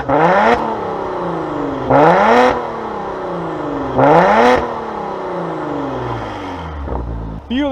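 A 2021 Maserati Levante SQ4's twin-turbo V6 is revved repeatedly, three sharp loud blips rising and falling over a steady idle, each lasting about half a second, with no talking.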